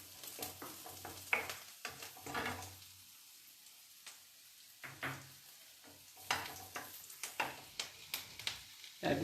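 Food frying in a pan on a home stove with irregular scraping and stirring strokes, short clattering knocks and a low sizzle underneath, soft and close with no talk.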